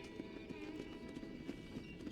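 A horse's hooves clip-clop in the Western video game Red Dead Redemption, a steady walking rhythm of soft thuds over faint game ambience and tonal music, with no speech.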